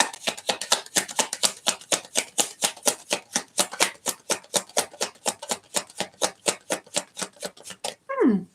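A deck of tarot cards riffled in a steady, fast rhythm of sharp, evenly spaced flicks, loud and close, ending in a brief rustle as the shuffle stops.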